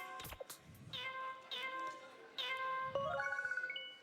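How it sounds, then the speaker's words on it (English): Cat meow instrument from the video game Wii Music: a string of synthetic meow notes plays a melody, each tone held and rising, ending in a quick run of short repeated meows. "I love the cat."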